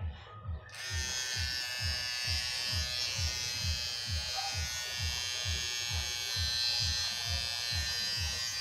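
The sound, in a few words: electric hair clipper buzzing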